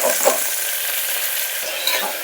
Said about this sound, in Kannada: ಇದಕ್ಕೆ ಒಗ್ಗರಣೆಗೆ ಒಂದು ಮೀಡಿಯಮ್ ಸೈಜ್ ಈರುಳ್ಳಿನ ಸಣ್ಣಗೆ ಕಟ್ ಮಾಡಿರೋದನ್ನ ಹಾಕ್ತಾ